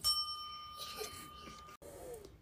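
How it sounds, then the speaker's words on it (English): A single bright bell ding rings out clearly at the start and fades with a long sustained tone, followed by faint soft background sounds. "make sure you turn the page when you hear the bell"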